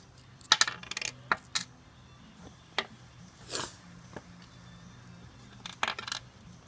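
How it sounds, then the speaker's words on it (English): Metal bolts handled in a hand while fitting a plywood floorboard to a 1928 Ford Model A, heard as scattered sharp metallic clinks and jingles over a quiet background. "hard to be a cameraman in one hand and getting the bolts ready in the other hand for Kevin."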